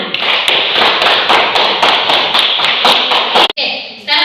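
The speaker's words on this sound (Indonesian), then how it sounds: "Iya, tepuk tangan." Schoolchildren at SDI Watu Tere in Ndoso clap together in a classroom, a loud rhythmic run of sharp, evenly spaced claps that stops abruptly.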